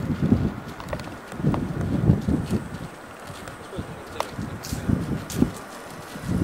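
Gusty wind blowing across ancient temple ruins at the Acropolis in Athens, Greece, a low buffeting rumble that rises and falls in waves against the microphone, with faint bird calls here and there.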